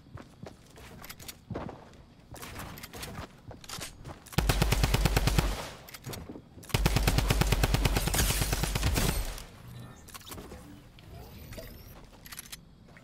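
A Tommy gun fires in the battle-royale video game Fortnite, two loud sustained bursts of rapid automatic gunfire separated by a short gap, with footsteps and game ambience before and after.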